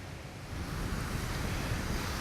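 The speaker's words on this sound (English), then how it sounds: "Now we're obviously at the ocean side of the property. This is the bit of beach associated with this place." Ocean waves washing onto a small beach beside a cottage property, a steady broad roar of surf with wind rumble, continuous and fairly close, with no voices.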